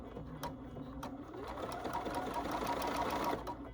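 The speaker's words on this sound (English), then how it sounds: "I'm just gonna zigzag and butt these 2 pieces together." A sewing machine runs steadily, zigzag stitching two butted fabric pieces together for a pin cushion, a continuous close mechanical whirr and rattle that holds even throughout.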